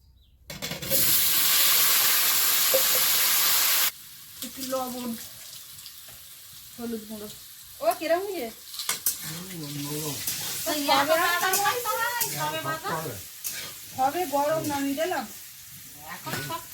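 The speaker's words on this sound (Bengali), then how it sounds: "আলুটা লাল লাল ভাজা হয়ে গেছে" Loud sizzle of potatoes frying in a pan for the first few seconds, then a person talks over quieter cooking noises.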